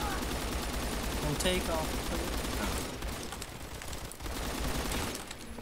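Rapid bursts of unsuppressed gunfire from the video game Phantom Forces crackle steadily through the clip, mixed with in-game noise while a player talks over it.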